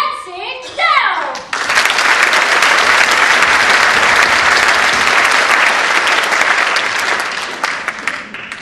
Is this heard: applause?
yes